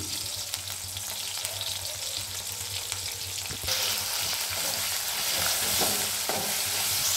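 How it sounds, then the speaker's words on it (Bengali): Ginger, crushed green chilli, a bay leaf and whole spices crackle and sizzle steadily in hot oil for a water chestnut curry, the frying growing louder and denser about halfway through, with no talking. "এগুলো ফোড়নগুলো ফেটে গেছে"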